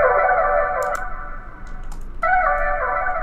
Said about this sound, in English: So you can just hear like a ton of distortion on that without the EQ